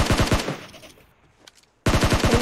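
Rapid automatic gunfire from the PUBG Mobile video game, a dense burst of shots, then a short quiet gap with a faint tick, before loud firing starts again, close and with no talk over it.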